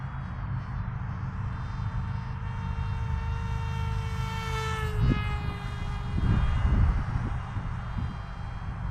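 Electric motor of a small 250-gram Dart RC plane in flight after a motor swap, a high buzzing propeller whine with rich harmonics that holds, then dips in pitch as the plane passes, under wind buffeting.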